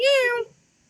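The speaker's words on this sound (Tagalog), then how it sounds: "Ayun na, meow na daw." A single cat meows close by, one short bright call that fades out quickly into quiet.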